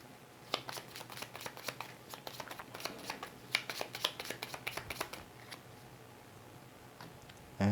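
Cards from This War of Mine board game are shuffled by hand nearby, a quiet run of crisp riffling flicks and taps in irregular bursts, ending with a brief thump.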